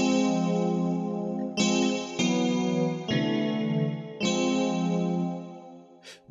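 A sustained synth chord from the Heat Up 3 plugin by Initial Audio, with modulation turned up, retriggered several times in a steady run, rich and buzzy with a chorus-like shimmer, loud and alone with no talk.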